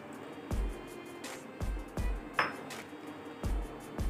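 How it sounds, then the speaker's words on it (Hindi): Strawberries dropped one by one into a mixing jug, giving several separate close thuds and clinks about a second apart, with a faint glassy ring on one drop and no voices. "मिक्सिंग जग, सबसे पहले हम इसमें डालेंगे अपनी स्ट्रॉबेरीज।"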